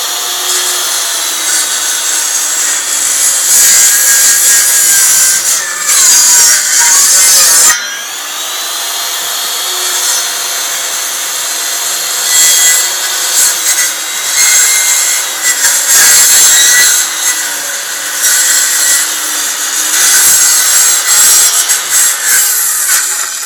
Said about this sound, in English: So the saw's going to go on now.